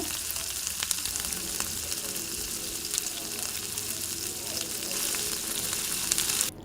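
Onions, curry leaves and chopped green chillies fry in oil in a pan with a dense, continuous hissing sizzle, loud and close, with a few faint stirring clicks and no talking.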